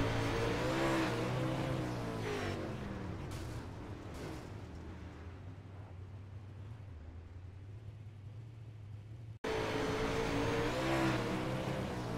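Engine of a UMP modified race car heard onboard at Williams Grove, a steady loud roar with rising revs that eases into a lower drone, then a sudden cut and the roar returning.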